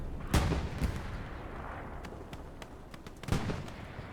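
Artillery shells in the Hell Let Loose war game, two heavy booming impacts a few seconds apart with scattered sharper distant shots and rumbling decay between them.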